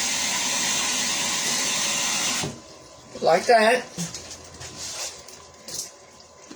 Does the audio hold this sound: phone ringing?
no